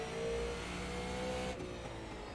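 A super late model race car engine pulls steadily on throttle, a loud, continuous mid-pitched drone with a slight dip partway through, heard from on board with no talk.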